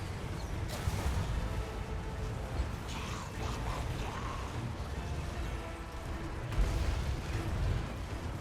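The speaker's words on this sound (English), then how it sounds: "Cetra's going to do a little explosion." Explosions rumble through a dense Total War: Warhammer 2 battle, a constant roar of blasts and clatter with sharper bursts near the start and toward the end, while a voice talks over it.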